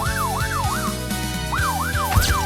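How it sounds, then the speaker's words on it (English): A police car siren wails in a repeating rising and falling yelp, loud and close, with a rhythmic mechanical pulse running beneath it. "It's the siren!"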